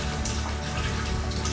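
Water pours steadily from a tap into a pressure cooker for a Mexican beef stew with chuck roast, shank and vegetables, a close, continuous splashing gush with no talking.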